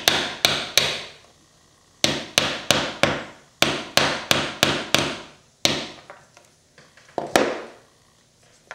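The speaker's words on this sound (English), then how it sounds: "Got me a hammer here." A hammer taps a wood carving for a neckerchief slide in quick runs of sharp knocks, three to five blows per burst with short pauses between, close and crisp.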